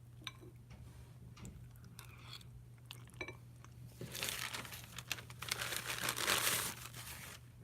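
Food being eaten during a mukbang lunch livestream, with cheese sauce on hand: close crinkly, crunchy chewing and biting sounds come in bursts, growing louder and denser in the second half, over a steady low hum, with no talk.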